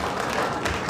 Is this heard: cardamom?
no